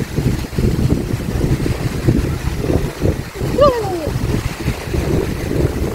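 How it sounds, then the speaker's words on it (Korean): Steady gusting wind roars across an open microphone near the sea at a beach in Siquijor, with a brief tonal whistle partway through. "바람이 세게 부는데"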